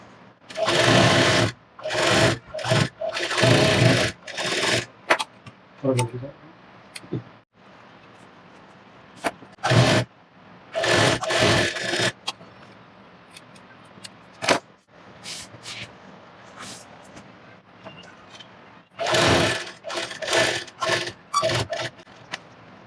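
A sewing machine stitches the shoulder seams of a bridal blouse, running in loud, close bursts of rapid whirring stitches separated by short pauses of quiet handling.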